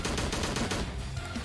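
Rapid gunfire in the horror shooter Slendytubbies 3, a quick string of about six sharp shots in steady rhythm, close and loud, then fading into a dull rumbling tail.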